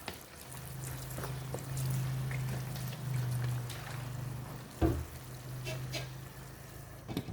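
Vinegar is poured into chicken adobo cooking in Sprite in a pan, a soft liquid pour and gentle sizzle with a low steady hum and a brief clatter partway through.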